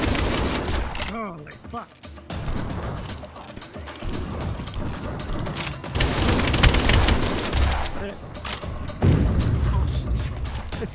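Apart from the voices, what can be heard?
gunfire in VR zombie shooter video game The Flip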